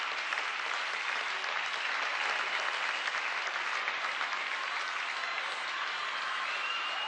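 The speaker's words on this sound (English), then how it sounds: "there's a tremendous ovation for her as she goes in front of this packed stand" Steady, dense applause and cheering from a packed grandstand at an athletics meeting in Birmingham, greeting runner Zola Budd on a cold, breezy day; continuous and even throughout, with no voices standing out.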